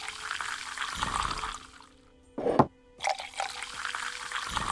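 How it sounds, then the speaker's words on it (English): Beer pours into a glass in the Tavern Manager Simulator video game, a brief splashing gush in a tavern scene, heard amid steady background game ambience and clatter. "Pour some more beers."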